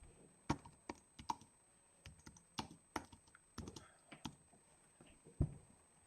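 Keys clack on a computer keyboard in quick irregular bursts of clicks, close and fairly quiet, with short pauses between keystrokes.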